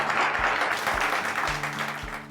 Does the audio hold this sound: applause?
yes